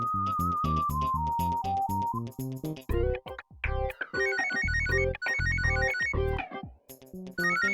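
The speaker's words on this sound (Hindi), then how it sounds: "अरे चाची, फोन तो उठा लो" A telephone ringtone plays loud and close, a busy electronic melody of bright repeating tones with short pauses between phrases.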